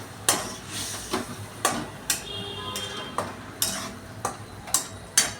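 A spoon stirs tomato paste with potato and jackfruit in a pan, giving about a dozen sharp metallic scrapes and knocks at a steady rhythm over a low sizzle, close and clear.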